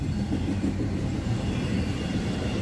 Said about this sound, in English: axles on this train, so it's a shorty, it's a UPS train, as you can see.